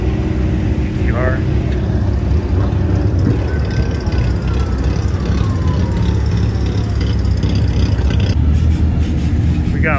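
A car with a fresh color wrap rolls into a car show, its engine rumbling low and steady, swelling briefly as it moves through the lot with crowd chatter around it.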